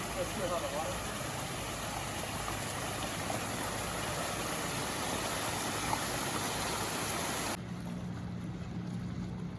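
A small waterfall along a stream on the Rubicon Trail at Lake Tahoe gives a steady, close rush of falling water that fills the whole stretch, then cuts off abruptly near the end.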